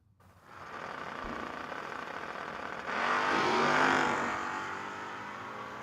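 A No-Box 660 shootout drag race car, a Mustang, launching off the line, its engine roaring steadily and swelling louder partway through as it pulls away, with no voices over it.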